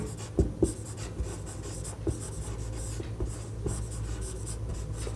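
Hand writing on a board or paper during a physics lesson on simple harmonic motion, with steady scratching strokes and a few sharper taps over a low background hum, no talk.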